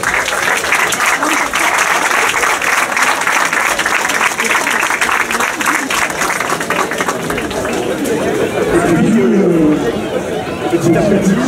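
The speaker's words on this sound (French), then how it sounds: "je crois qu'on peut l'applaudir" Dense, loud applause from a festival audience at the opening ceremony of the Papillons de nuit festival, sustained throughout with crowd chatter and voices mixed in, swelling again near the end.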